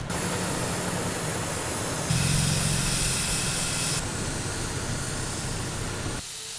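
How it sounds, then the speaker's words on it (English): Air hissing loudly from truck tires being aired down at a trailhead in the Uintas, a steady close rushing hiss that swells louder midway, then eases before cutting off near the end. "before we're going to air down the trucks really quick"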